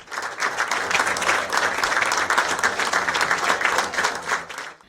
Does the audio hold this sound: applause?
yes